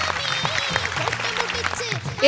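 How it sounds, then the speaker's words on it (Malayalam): Audience applause and clapping on a Malayalam music reality show during a songs round, a steady wash of hands lasting the whole stretch with voices and cheering mixed in. "ഒരു വലിയ കൈയടി."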